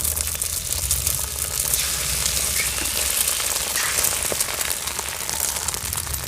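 Egg frying in hot oil in a kadai over a clay rooftop stove, a steady broadband sizzle and crackle that holds at an even level throughout, with no voices.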